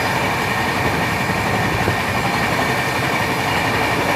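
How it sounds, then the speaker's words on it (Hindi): The 12285 Secunderabad–H Nizamuddin Duronto Express rumbles past the Kerala Express while overtaking it, a loud, steady roar of rolling wheels and carriages heard from on board, with no voices. "Overtaking Kerala express."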